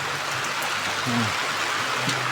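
Heavy rain shower pours down over an outdoor flea market in Kyiv, a dense steady hiss filling the scene while someone speaks briefly beneath it.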